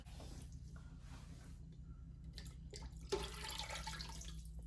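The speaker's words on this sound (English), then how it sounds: "One jar full of water down. One more jar." A jar of water poured into an Instant Pot holding browned ground beef, a quiet trickle and splash that swells into a fuller gush near the end, heard alone.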